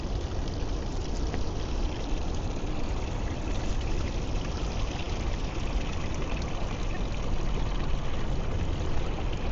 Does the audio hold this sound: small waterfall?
yes